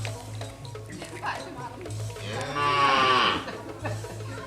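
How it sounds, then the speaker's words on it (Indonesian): A cow moos once, a long, drawn-out low call nearby, with people talking around it and soft background clatter. "Ini sapinya baru dikeluarin"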